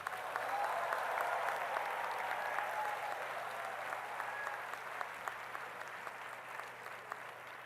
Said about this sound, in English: let's give a thunderous applause to class